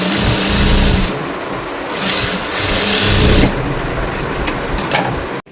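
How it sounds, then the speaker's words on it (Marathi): A sewing machine stitches a dress seam with a loud, steady mechanical whirr that pauses briefly and restarts, then stops abruptly at the end. "त्याच मार्जिनवर आपल्याला शिलाई जी आहे लावून घ्यायची आहे"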